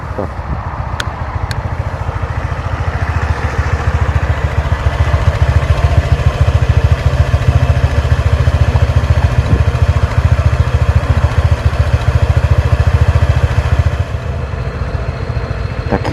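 A scooter engine idles close by, chugging in an even rapid putter that rises slightly in the middle and settles again.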